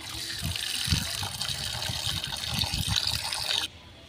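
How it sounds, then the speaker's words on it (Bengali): Running water washes a freshly cleaned bain fish (eel), a quiet steady pour with soft splashes and knocks that cuts off abruptly near the end. "মাছটা পরিষ্কার করে ধুয়ে নিই"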